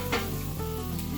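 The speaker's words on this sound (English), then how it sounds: "So frying up some cabbage, throw a little butter, throw a little bacon in for nice smoky flavor" Cabbage and bacon frying in butter in a pan give a steady, close sizzle with no talk, rising into one brief louder crackle near the start.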